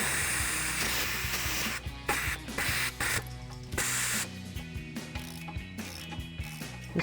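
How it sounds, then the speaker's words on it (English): An air ratchet rattles in quick repeated bursts while removing a brake caliper bracket bolt on a 2019-2024 Sierra 1500 truck, close and mechanical with short pauses between runs. "we're gonna go ahead and throw an air ratchet on this top one"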